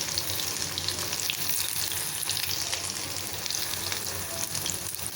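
Spiced soya chunks deep-frying in oil, a low, even bubbling sizzle holding steady for the whole stretch with faint crackles, no stirring accents and no talking.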